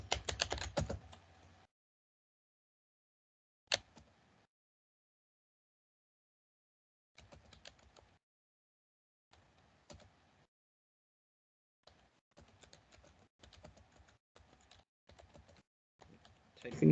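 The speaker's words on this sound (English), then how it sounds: "Typing quickly here." Fast typing on a computer keyboard, close and quiet, arriving in short bursts of rapid key clicks separated by stretches of silence.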